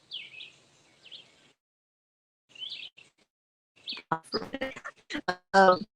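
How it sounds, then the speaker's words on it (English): Birds chirp in short bursts with quiet gaps between, then a person speaks close by. "Just listen to the birds."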